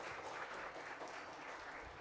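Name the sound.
audience applause for a conference panel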